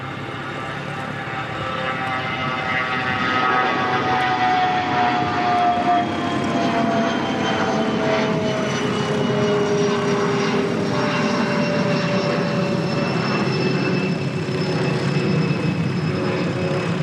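A departing aircraft roars off the Christchurch Airport runway, a loud, steady engine noise rising over the first few seconds and holding strong with shifting whine tones, with no talk.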